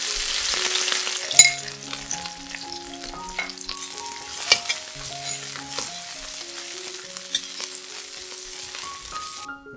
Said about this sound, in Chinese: 然后倒入辣椒干